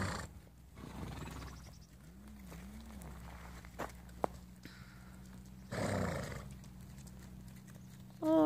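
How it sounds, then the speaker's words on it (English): Wild Nevada Mustang horses walk with soft hoof clops and snorting among the herd, then a brief whinny near the end; a nearby person's rustling and short sounds break in. "These are our wild Mustangs."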